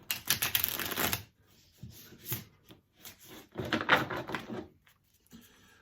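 Tarot cards being shuffled in quick riffling bursts, close and crisp, with pauses between rounds of papery flutter and tapping.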